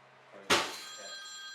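An indoor telephone suddenly starts ringing partway through, a bright, close electronic ring that stays sustained and fairly loud after a quiet lead-in.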